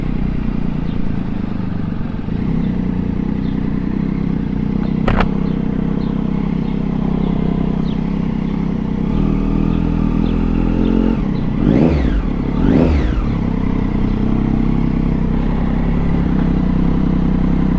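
Triumph Daytona 675 motorcycle engine droning steadily while riding, close and loud, with a sharp click and a couple of brief revs near the end.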